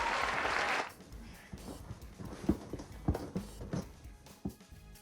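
A short burst of clapping opens, loud for under a second, followed by quieter scattered taps and knocks.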